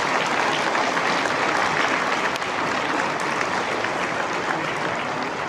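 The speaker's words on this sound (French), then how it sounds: "une bonne main d'applaudissements pour nos intronisés qui sont présents ce soir" At an evening induction ceremony for the Quebec Agricultural Hall of Fame, an audience gives sustained applause for the inductees present, a dense, even wash of clapping heard alone.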